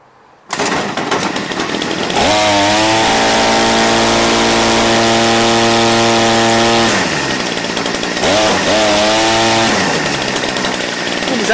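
A Redmax BCZ2460S weed whacker engine starts abruptly and runs loud and close, a raspy two-stroke buzz that revs up and holds, then dips and surges again in uneven bursts.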